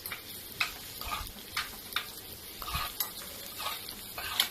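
Green chillies and curry leaves frying with onions in a pan, with a soft steady sizzle under repeated scraping and tapping of a spoon stirring against the metal.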